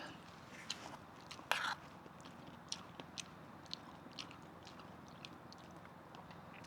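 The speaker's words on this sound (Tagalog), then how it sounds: "Kailangan nguyang-nguya." Close, quiet chewing of the skin of a cooked head at a campsite, with soft wet bites and irregular small crunches spread over several seconds.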